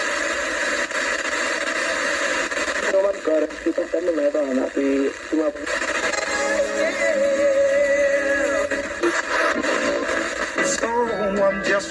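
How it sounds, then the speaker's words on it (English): An RS-1516 shortwave/FM/AM radio with digital tuning steps from station to station, with bursts of hiss and static broken up by snatches of voices and music that change in abrupt jumps. "You could probably hear it switching in steps because this is not a true analog radio."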